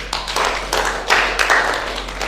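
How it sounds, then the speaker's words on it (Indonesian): Classroom applause for a group of students: a short burst of moderately loud hand clapping from a small group, uneven and steady without any talk. "beri tepuk tangan untuk kelompok 1"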